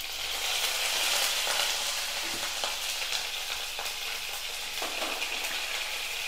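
A bunch of wet curry leaves hits hot oil for a spicy dried-chilli chutney, giving a loud, dense sizzle with crackling bursts that stays strong and close for the whole stretch.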